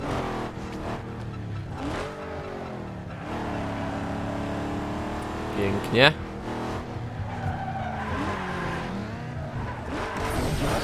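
High-pitched racing engines in the video game Need for Speed Underground 2 whine and rise and fall in pitch as cars accelerate, with a brief tire screech midway and someone talking over it.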